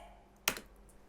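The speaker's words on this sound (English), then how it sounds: "Oh, typing." One sharp, close clack of a key being typed in the video game Aperture Desk Job, a single quick hit set against near silence.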